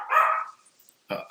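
Dogs bark nearby in two sharp bursts, a drawn-out woof followed by a short pause and a second quick bark, loud and alone without talk.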